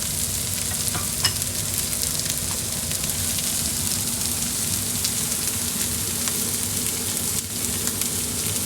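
Vegetables fry in a wide wok with a steady, loud sizzle that holds throughout, with occasional soft clicks as they are stirred and spread against the sides.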